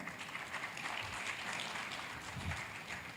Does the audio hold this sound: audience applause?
yes